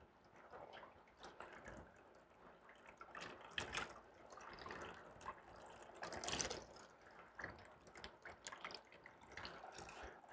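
Treated brewing water poured by hand over grain in an electric brew-in-a-bag setup for a Fuller's ESB clone, a close, uneven splashing and trickling with a few louder surges, no talk.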